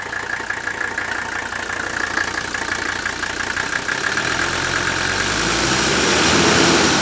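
A 1983 turbo diesel engine idles steadily and close, then rises in a low, swelling rumble toward the end.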